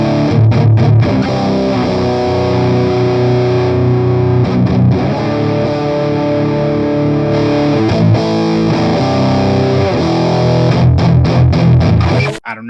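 Electric guitar through a distorted Orange amp simulation in Amplitube 5, playing thick, saturated chords and riffs continuously and loudly with a noisy, buzzing edge, ending abruptly.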